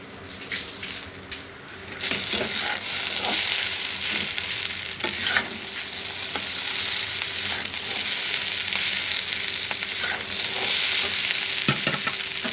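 Noodles being stir-fried and mixed with tomato sauce and soy sauce in a pan, a steady close sizzle throughout with repeated scraping and clinking stirs of the utensil, no one speaking.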